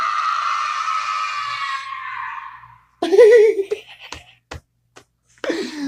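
A shrill scream sound effect played from a soundboard for a Redbrand thug in a Dungeons & Dragons game, a high wavering cry after a fading tone, followed by short clicks and another brief outburst.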